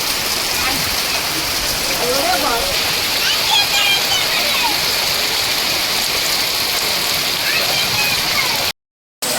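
Loud, dense roar of heavy rain pouring steadily nearby, constant throughout, with a short gap of silence just before the end.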